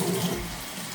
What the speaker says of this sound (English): we will see how good it's going to perform against the stream of water falling on it